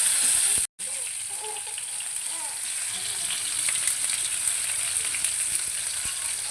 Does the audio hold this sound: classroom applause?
no